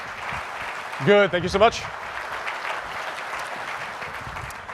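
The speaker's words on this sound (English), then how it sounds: "Give her a big round of applause as she joins me on stage." Audience applause in a hall as a volunteer joins the presenter on stage, a steady wash of clapping running throughout while someone briefly speaks over it.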